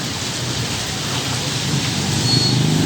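Heavy rain drums steadily on a roof, a dense, loud, continuous roar with no voices.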